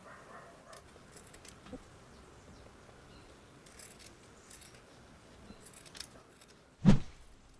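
Scissors cutting fabric close to the seam of a sewn shoulder towel, a single sharp snip standing out near the end after quiet faint handling noises.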